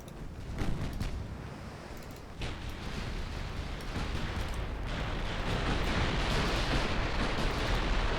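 Heavy naval gunfire and explosions in a naval warfare video game set in a Greek campaign, a loud sustained roar of blasts and rumbling that swells after a brief dip and stays dense to the end.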